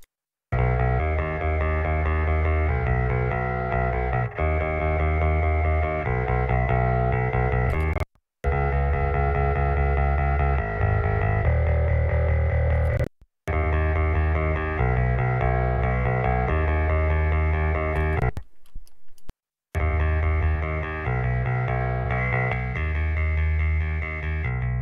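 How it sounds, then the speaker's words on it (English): Distorted electric bass guitar DI track playing in a rock mix, a thick, fuzzy sustained tone running steadily at high level, with brief gaps where it drops out. "One thing that I know already for this bass compared to the other one is that I don't want the distortion on it, because it's already pretty distorted"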